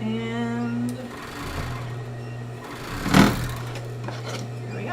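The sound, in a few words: sewing machine stitching a sports bra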